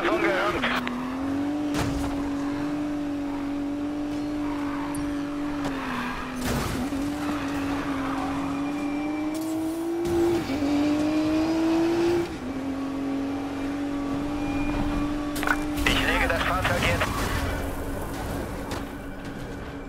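Car engine from an Audi S5 chased through city streets in the racing game Need for Speed Payback, a steady loud engine drone with tire skids and shifting revs, a radio-style voice speaking over it throughout.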